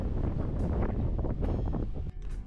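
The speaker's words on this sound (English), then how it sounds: "Wow, it's windy out there" Strong coastal wind in the south of France buffeting the microphone outdoors, low rumbling gusts that rise and fall unevenly with brief sharper bursts.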